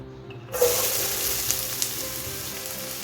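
Carrots and beans sauté in hot oil in a pan, a bright sizzle bursting in after a quiet start and holding steady with small crackles and pops.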